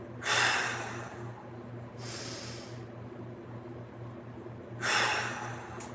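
Breathing during a mobility exercise session: three long, airy breath sounds, rising and fading, spaced a couple of seconds apart over a steady low hum, with no talking.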